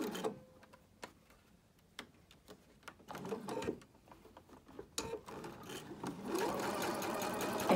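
Sewing machine stitching a fabric face mask, running in short bursts of rapid needle clatter with pauses between and a longer, denser run of stitching toward the end; no one speaks.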